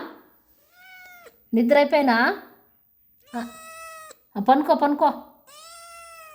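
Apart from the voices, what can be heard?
cat meowing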